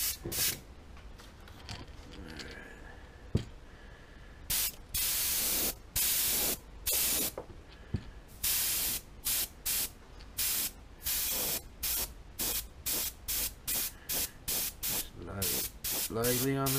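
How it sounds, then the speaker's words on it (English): Repeated short bursts of spray paint hiss onto a fishing crankbait lure, about a dozen quick sprays in an uneven rhythm, close by, with a faint background hiss between them. "we're going to just lightly spray a little bit of this going back this way."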